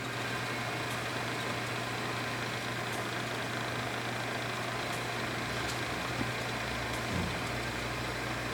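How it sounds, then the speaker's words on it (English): TRAK TRM CNC bed mill with a 40 taper spindle running, a quiet steady hum with a faint constant whine and occasional soft ticks, continuous and unchanging throughout. "He's running the spindle. Spindle's nice and quiet."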